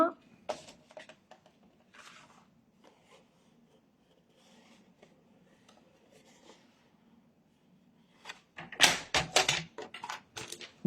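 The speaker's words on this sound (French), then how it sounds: "Moi, j'aime bien utiliser mon massicot pour couper" Paper is cut with a paper trimmer while crafting a box for four Ferrero Rocher chocolates. Soft handling noises and quiet talk come first, then a loud, close burst of rasping, slicing strokes near the end.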